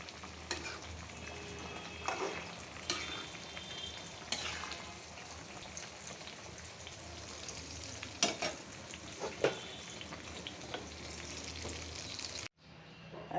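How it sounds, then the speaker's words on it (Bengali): Curry frying in a pan on a stove, stirred now and then: a steady close sizzle runs throughout with scattered scraping strokes of the spoon, cutting off abruptly near the end. "আর এই চুলাতে তরকারিটা হইতেছে, একটু নাড়া দিয়ে দিই"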